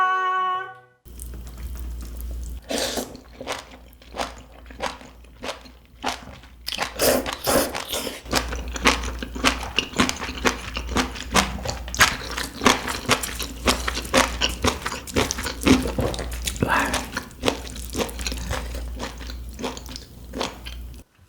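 Close-up mukbang eating of spicy chicken feet with beef intestines and rice burgers, a steady run of crisp bites and wet chewing, loud and near, continuing without pause and with no talk.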